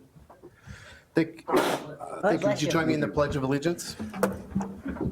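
A single sharp sneeze bursts out in a meeting room during a village board meeting, just after the roll call, followed by people responding and a voice speaking over quiet room noise.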